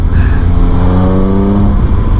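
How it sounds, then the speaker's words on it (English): A 2019 Triumph Speed Triple RS motorcycle engine with factory silencers hums loudly while riding, its droning note rising and wavering steadily over rushing wind noise. "The note of this engine too sounds similar to a plane that's crop dusting."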